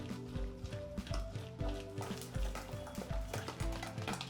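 Oats idli batter being mixed with salt, a spoon scraping and clacking against the bowl in quick repeated strokes, close and fairly quiet with no voices.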